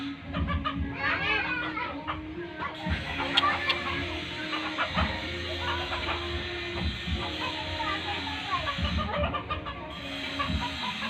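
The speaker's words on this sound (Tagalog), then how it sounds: "Yan, ayun sabong nga oh." Roosters fighting at a Philippine cockfight (sabong), with repeated clucks and squawks over a constant busy crowd murmur and scattered voices.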